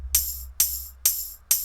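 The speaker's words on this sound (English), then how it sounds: "I also have this open hi-hat." Open hi-hat sample in FL Studio struck four times at an even pace, each a bright sizzling hit that rings and fades before the next, with a low steady hum underneath.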